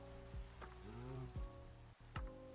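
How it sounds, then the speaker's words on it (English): Steady rain hiss in the Minecraft video game, a dense, even patter running the whole time, with a few louder soft thumps and a brief tonal whoosh layered over it; no talking. "Can you hear the rain?"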